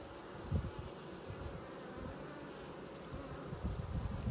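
A steady, dense hum of many honeybees buzzing, fairly faint and continuous, with no voices.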